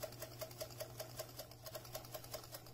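Close, quiet sewing machine stitching over elastic on a flute mask, fast even needle clicks in a steady rhythm over a low motor hum.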